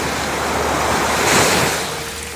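South China Sea waves wash and surge steadily on the shore at San Antonio, Zambales, swelling to a louder crash midway, with some wind buffeting the microphone.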